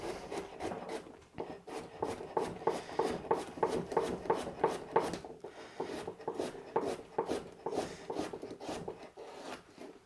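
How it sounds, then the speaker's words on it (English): A knife chops washed, unpeeled vegetables finely on a board for a soup and stir fry, giving steady rapid rhythmic cuts throughout, close and moderately loud, with no talking. "I'm just going to cut them probably finer than I need them to"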